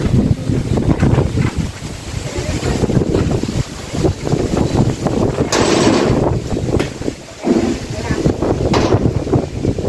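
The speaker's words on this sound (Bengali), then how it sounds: "দেখলেন বাইরে কিরকম ঝড় হলো মাত্র" Storm wind outside roars and gusts loudly and almost without pause, buffeting the microphone with rushing noise, while a voice speaks faintly underneath.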